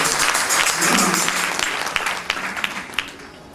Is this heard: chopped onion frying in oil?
no